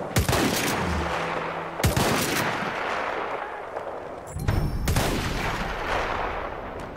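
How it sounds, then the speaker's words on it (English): Machine gun fire in Battlefield 1, with loud rattling bursts standing out over a constant roar of battle, with heavy booming shots near the start and again midway. "Machine gun, looks like!"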